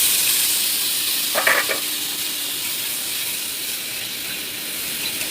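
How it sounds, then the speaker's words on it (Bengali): Mushrooms with turmeric frying in oil in a wok, a steady bright sizzle and hiss running the whole time with a brief stir or clink partway through, close and alone without voices. "কড়াইতে একটু তেল দিয়েছি বন্ধুরা। এই যে দেওয়ার পর এবার একটু আমি হলুদ ফেলে দেবো, দিয়ে আমি এবার মাশরুমগুলো ঢেলে দেবো।"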